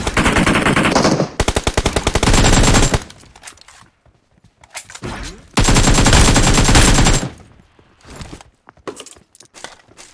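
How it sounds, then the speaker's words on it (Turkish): Loud, close automatic gunfire in the battle royale game PUBG Mobile comes in two long rapid bursts, each a dense rattle of shots lasting a few seconds, split by a quieter gap with faint scattered sounds. "Tamam onu da vurdum."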